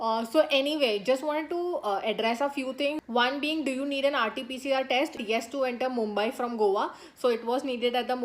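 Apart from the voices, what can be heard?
No everyday noise stands out behind the speech.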